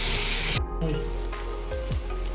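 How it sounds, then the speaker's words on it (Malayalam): Chopped tomatoes hit hot oil in a pan for rasam and sizzle steadily, with a few scraping stirs of a spoon cutting through the frying hiss. "ഇനി നമ്മൾ അരിഞ്ഞു വെച്ച തക്കാളി, അത് നമുക്ക് നല്ലപോലെ ഇളക്കി മിക്സ് ചെയ്ത് യോജിപ്പിച്ച് കൊടുക്കാം"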